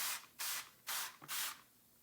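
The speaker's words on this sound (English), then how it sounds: "I'm going to spray the roots down with some hydrogen peroxide." Hydrogen peroxide sprayed from a pump bottle onto orchid roots during a white mold cleanup, four quick hissing bursts in steady rhythm, each about a quarter second, close and alone.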